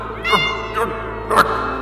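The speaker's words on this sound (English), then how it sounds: "Hello, little kitty cat." A small cat meows three times in quick succession, high and drawn-out, close to the listener, with no speech over it.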